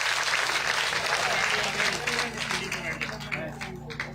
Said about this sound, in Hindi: जोरदार तालियों के साथ इनका हौसला बढ़ाएं।